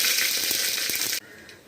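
Mustard seeds and dried red chillies hit hot oil for a sprouted chickpea thoran, giving a loud, dense, steady sizzle and crackle that cuts off abruptly after about a second, leaving a faint hiss.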